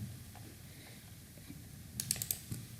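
Keyboard keys pressed in a quick burst of several clicks near the end, for copy and paste shortcuts while pricing sandwich panels on a computer, faint against quiet room noise.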